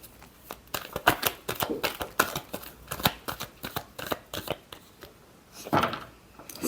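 A deck of tarot cards is shuffled in a run of quick, crisp flicks and soft slaps, close and fairly quiet, with a brief louder burst near the end.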